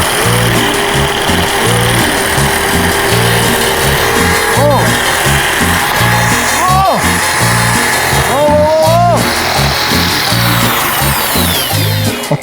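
An electric drill spins a metal file against a workpiece, producing a loud, continuous grinding whir with a pulsing rhythm and several short pitched squeals as the file bites.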